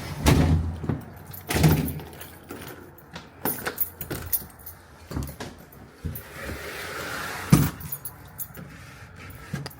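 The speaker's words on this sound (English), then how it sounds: "Damn, screen door don't close the same now." Screen door at a house closing, which no longer shuts the way it used to: a series of clattery knocks, rattles and a jangle of keys, with sharp bangs spread across the stretch and no talking.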